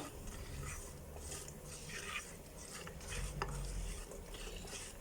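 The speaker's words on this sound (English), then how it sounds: "So we just mix this around." Githeri being stirred in oil in a pot for a Kenyan dish, with a steady scraping, shuffling texture and a soft frying sizzle underneath, continuous and close, no talking.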